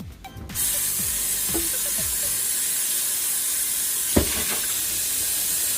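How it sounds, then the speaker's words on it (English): A strong steady hiss of water from a faucet rinsing out a blender, running continuously after a few clunks at the start, with a brief knock partway through. "I'm just going to open up the blender and then I'm just going to rinse it out."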